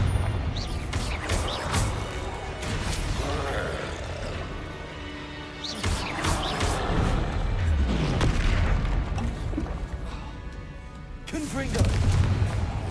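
Repeated Confringo blasting-spell explosions in Hogwarts Legacy, a string of heavy booming blasts with crashing debris, loud and close, rolling over continuous battle noise with a voice in the mix.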